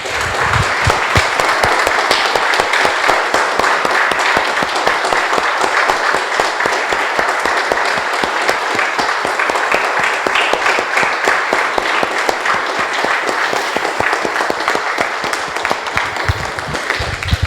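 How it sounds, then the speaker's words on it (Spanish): Loud, sustained applause from a large church congregation, dense and continuous clapping that carries on for a long stretch. "Damos un aplauso, hermanos, al Señor."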